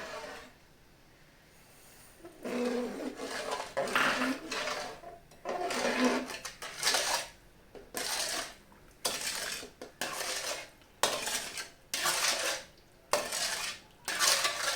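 Rice-water halwa stirred in a pan, a spoon scraping and clanking against the pan in repeated strokes that come in uneven bursts after a quiet start, close and clear, with no talking.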